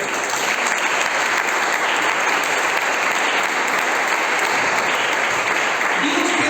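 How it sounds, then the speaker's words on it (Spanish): Church congregation applauding during a sermon, a loud, continuous wall of clapping from a large crowd that holds steady for several seconds. "¿Por qué no le regalan un aplauso al Señor?"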